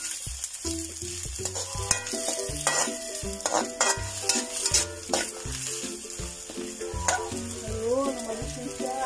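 Luffa (patola) sizzles in a hot pan at a nature camp while being stirred, with repeated scraping strokes of a utensil against the pan over a steady frying hiss.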